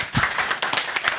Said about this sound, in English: Now you've clapped for all of them.